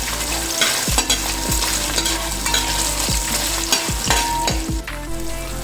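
Sliced coconut frying in hot oil in a pan while it is stirred toward light brown for a Kerala beef roast, with a steady dense sizzle and repeated scraping strokes of a spoon against the pan, close and loud, no talking.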